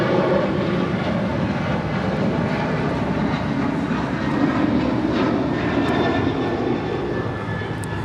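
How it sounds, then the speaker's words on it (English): A United Boeing 737-900ER airliner roars steadily through its takeoff at Houston Intercontinental, a loud, continuous broadband jet engine rumble sustained for the full eight seconds with no talk. "2140 departing the Houston Intercontinental on a 737-900ER"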